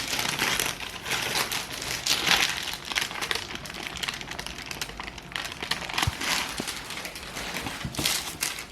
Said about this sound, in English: and remove the bottom paper.